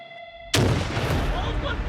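A live grenade blast during Swiss army stronghold-assault training erupts suddenly after a brief tone, a loud close boom followed by a long rumbling, crackling tail of debris and echo.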